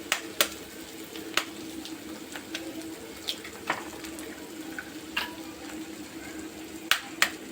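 Eggs for egg bhurji, six of them, cooking in a pan as a utensil stirs them, giving soft scraping clicks and light intermittent sizzle at close range, with no voices over the kitchen noise.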